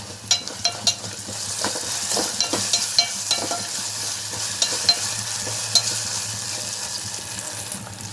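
Spoonful of ginger garlic paste frying in hot oil for a fish gongura curry, a steady close sizzle with sharp spoon scrapes and stirring clicks scattered throughout, no voices.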